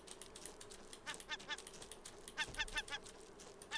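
Seagulls in the Raft survival video game, a rapid run of harsh squawking cries repeating in clustered bursts, moderately quiet and close, with no talk.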